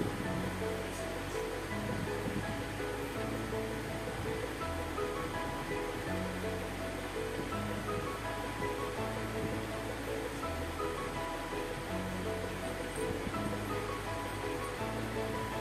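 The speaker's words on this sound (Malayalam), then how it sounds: "ഇങ്ങനെ 2 വശവും തിരിച്ചും മറിച്ചും ഇട്ട് നമുക്ക് ദോശ നല്ല പോലെ മൊരിച്ച് എടുക്കാം." A dosa sizzles and crackles steadily on a hot pan, a broad continuous frying hiss that stays fairly loud and even throughout, with no talk over it.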